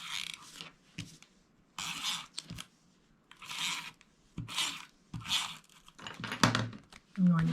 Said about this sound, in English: now I will add some tape to the back of this piece.